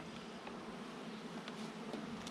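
Honey bees hum steadily at an open hive during a mid-season inspection, with a dense continuous buzz close by and individual bees briefly droning louder as they pass near.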